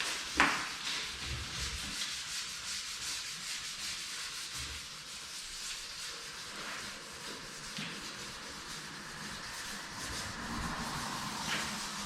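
Steady scratchy sanding across a surface already sanded at 320 grit, a continuous gritty rubbing that carries on throughout with slight variations in intensity and no talking.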